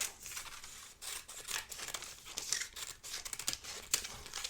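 Scissors cutting along a drawn line on a paper Mobius strip loop, giving a close, quiet series of crisp snips and rustling paper crinkles in an irregular rhythm, with no voices.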